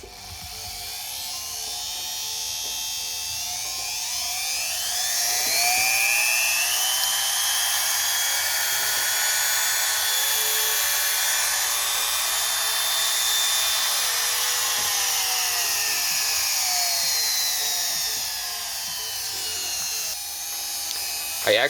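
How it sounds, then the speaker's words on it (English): A TECCPO TART13P rotary tool whines continuously for about twenty seconds, its pitch rising and holding steady, loud and close with no talking. "let's test the drill out"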